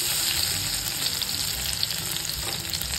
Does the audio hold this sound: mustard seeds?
yes